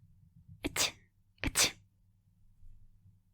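Two soft, stifled sneezes about a second apart from a woman covering her face with her hands, close and quiet over a low background hum.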